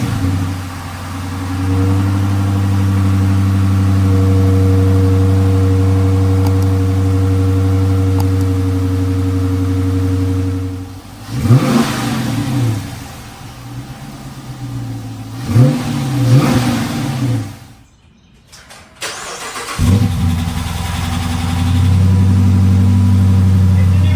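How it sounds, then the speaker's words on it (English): A supercharged Dodge Charger Pursuit engine idles with a loud, steady rumble after a cold start, then revs sharply twice and dips briefly before settling back into a high idle, close to the car. "I want to give you guys a quick little cold start with this setup"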